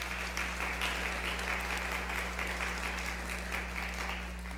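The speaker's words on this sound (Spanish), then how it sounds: "Ya le damos un aplauso a ellos, por favor." A church congregation applauds during a Sunday service, the clapping even and sustained at moderate distance over a low steady electrical hum.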